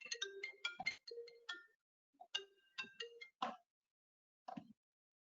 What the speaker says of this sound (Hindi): एक मिनट यार ऑफिस से फोन आ रहा।